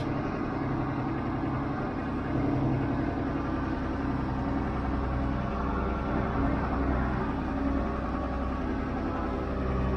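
An International Harvester 886 tractor's diesel engine runs at a steady idle, a continuous low rumble that holds even and close throughout with no talk.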